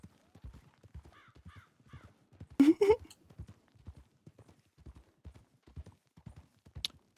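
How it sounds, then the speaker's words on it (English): Horse hooves clip-clopping in a Red Dead-style western roleplay video game, a steady, crisp walking rhythm of hoofbeats throughout, with a brief bird caw and a short snort-like burst partway through. "I'm gonna get Isaac's horse out"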